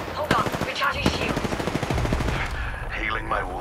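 Rapid automatic gunfire rattles in the Apex Legends battle royale game, with dense bursts of shots and impacts through most of the span and a voice talking briefly over it.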